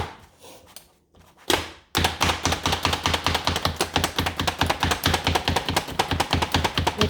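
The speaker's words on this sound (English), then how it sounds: "I'm going to show you how quickly and easily you can chop an onion." Rapid, steady chopping clatter, a Pampered Chef manual food chopper working through an onion with fast repeated thunks after a brief quieter start.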